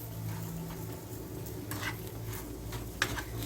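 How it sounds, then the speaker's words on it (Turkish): Dried figs, apricots and raisins stirred with sugar in a pan, a soft continuous scraping under a faint background hum, with a few light clinks of a utensil near the end. "Şimdi üzerine toz şekerimizi ilave ediyoruz. Ve şöyle güzelce bir karıştıralım."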